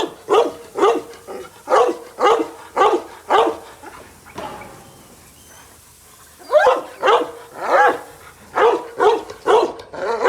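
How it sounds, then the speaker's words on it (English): A young guard-breed puppy, under six weeks old, at a kennel yard of bandogs and pit bulls barks in steady repeated bursts, about a dozen loud close barks, pausing briefly before resuming. "He barks all the time."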